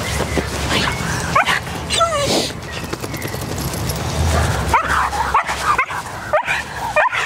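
A reactive cockapoo barks, yips and whimpers in excited bursts throughout, close by, while people talk over a busy background.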